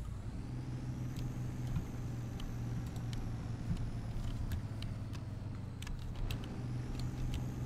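A heavy truck reverses in the off-road driving game Spintires. Its engine gives a steady, close, low rumble with a constant drone that never lets up. Faint clicks and creaks sit on top, and no one talks.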